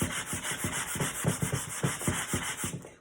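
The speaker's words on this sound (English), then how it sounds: "take your sandpaper, and you're just going to smooth the top of your board just a little bit." Sandpaper rubs across the top of a painted wooden sign board in brisk, even back-and-forth strokes, close and scratchy with a steady rhythm of about three strokes per second.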